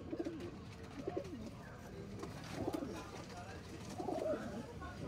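A pigeon coos in soft, repeated low phrases, three or four rounded calls spaced across a few seconds, faint and close over a quiet background.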